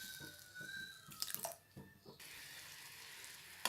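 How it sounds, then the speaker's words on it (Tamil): Water is poured into a kadai of sugar for caramelizing while making Tirunelveli wheat halwa, a faint, brief trickle and splash in a quiet kitchen, then a soft steady hiss of flowing water. "அது கூட கொஞ்சமாக தண்ணி சேர்த்துக்கலாம்."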